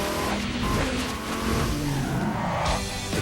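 A Pontiac G8 GT sedan drives hard, its engine roaring loud and close with a brief tire-squeal edge, steady and continuous for a few seconds with no talking.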